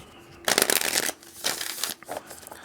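Ancestor oracle cards by Kyle Gray being shuffled and handled, with two dense bursts of crisp card riffling close up and a quieter rustle trailing at the end.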